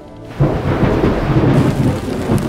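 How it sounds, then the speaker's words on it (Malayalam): Heavy rain with rolling thunder on a scenic route, a steady loud roar of downpour that swells suddenly and stays dense throughout, with low rumbling beneath. "ഞങ്ങൾ പോയപ്പം നല്ല മഴയും ഇടിയൊക്കെ ഉള്ളൊരു സമയമായിരുന്നു."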